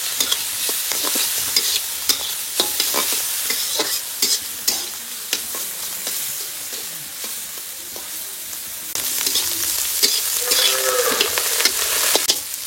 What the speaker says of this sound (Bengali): দিয়ে এটা ভালো করে কড়া করে আমি ভেজে নেবো।